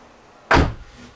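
A rear car door swings and clicks through its check positions, giving a single loud, close thud with a short tail.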